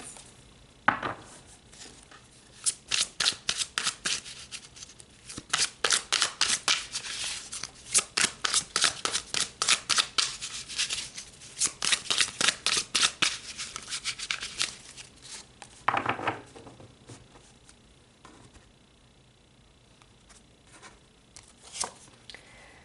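Tarot cards being shuffled and pulled, a long series of quick papery riffles and slaps in bursts, close and fairly quiet, with short pauses between runs.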